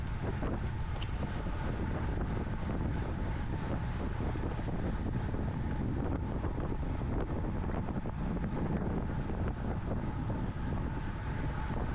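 A steady, loud roar of headwind buffets the microphone of a cyclist racing at Croft Circuit in a winter crit series. The rumble runs unbroken throughout and covers any other sound.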